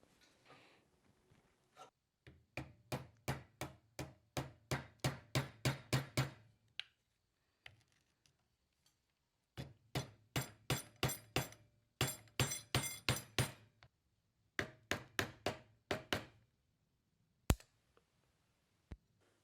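Rapid bursts of metal striking metal as a screwdriver is hammered against the staked nut on a Porsche 915 transaxle, several quick runs of sharp blows separated by pauses, ending with one loud single hit.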